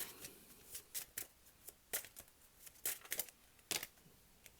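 Tarot cards are shuffled and drawn by hand in a run of soft, close riffling and snapping bursts, quiet and irregular, with no talking.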